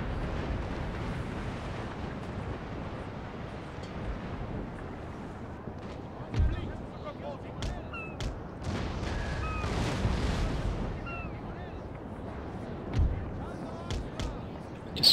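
Warships trade distant cannon fire in Napoleon Total War, dull booms and sharp reports scattered over a steady rumbling battle backdrop, fairly faint throughout.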